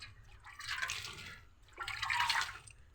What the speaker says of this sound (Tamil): இதுக்கு மேலே கொஞ்சம் தண்ணி தெளிப்போம்.